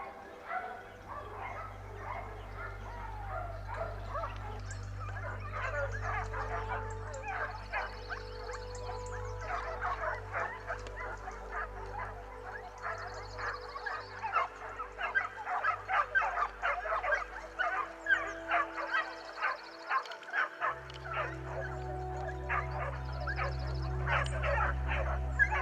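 Hunting dogs, including a pointer, bark and yip during a boar hunt outdoors, with repeated sharp barks in irregular bursts that grow busier toward the end, over a low rumbling background.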